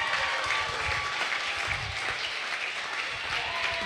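Audience applause breaks out after a winning bid closes a charity auction, a dense, steady wash of many hands clapping that holds at an even level for the full few seconds.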